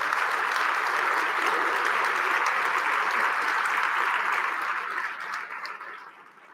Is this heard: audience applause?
yes